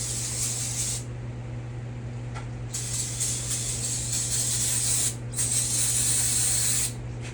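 Brake cleaner hisses from an aerosol can onto a Jeep TJ undercarriage in several close, loud sprays with short gaps between them, over a steady low hum.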